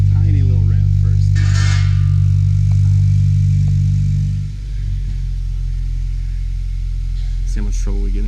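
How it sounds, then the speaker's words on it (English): An idling Subaru WRX fitted with an Invidia exhaust rumbles deeply and close by, gives a weak, short rev, then settles lower, with people talking nearby. "Maybe give it a tiny little rev first."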